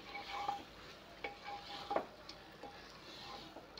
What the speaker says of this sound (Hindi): इसे हम भून लेंगे जैसे कीमा भुना जाता है।